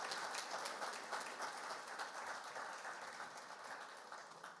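A conference audience applauds a guest of honor after a forum opening, steady dense clapping from many hands that carries on evenly throughout with no voices over it.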